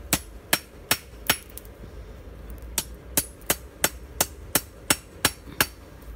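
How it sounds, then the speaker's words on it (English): Metal is hammered at a forge in Utrecht: about fifteen sharp, ringing strikes land close by, evenly spaced after a brief pause near the start, with no talking. "just hammer to the other side of the hammer and see what happens"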